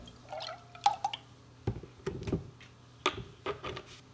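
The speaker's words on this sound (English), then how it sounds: "To your heavy whipping cream, you're going to add 1 cup of your unsweetened almond milk." Unsweetened almond milk poured into heavy whipping cream, heard as soft, close, irregular splashes and drips in a quiet kitchen.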